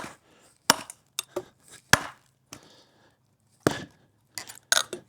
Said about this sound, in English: Chopping in there, cross grain.